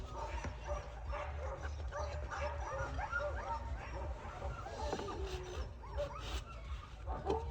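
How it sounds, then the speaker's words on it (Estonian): Several dogs bark and yip in short, scattered bursts with some whimpering at a competition or race-day site, close and fairly loud over steady low background rumble, with faint voices in between. "Need koerad on tagamaks või kurjalikud."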